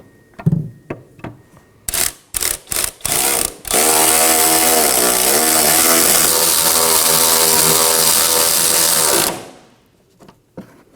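A power tool snugs down the rear shock absorber bolts on a 2015-2023 Nissan Maxima: a few short bursts, then one steady, loud whine of about six seconds, close up with no talk.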